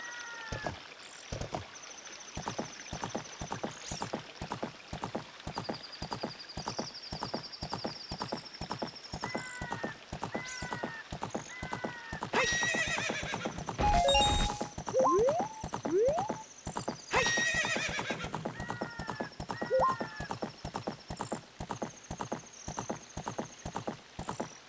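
A horse in the video game The Legend of Zelda: Ocarina of Time gallops with steady rapid hoofbeats throughout, with several bright neighs and chimes of game sound effects layered in midway.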